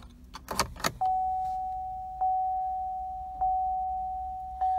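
Keys jangle loudly up close during key programming on a 2017 Chevy Impala, followed by a steady electronic chime from the car that repeats three times.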